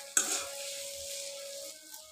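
Shing fish jhuri with lemon leaves frying lightly in a pan, a steady soft sizzle after a brief clatter at the start, continuing alone and fairly faint throughout.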